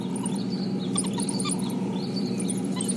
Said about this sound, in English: listen to this high-pitched twittering. It's almost bird-like.